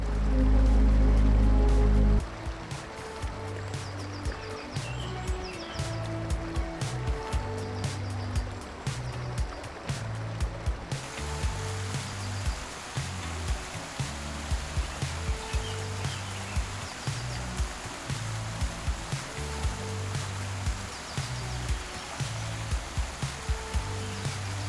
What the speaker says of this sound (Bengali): এখানে আপনি শুনতে পাবেন পানির শব্দ আর পাখির ডাক